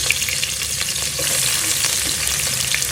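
Onions fry in hot oil in a pot, a dense, continuous sizzle close up with light stirring scrapes throughout.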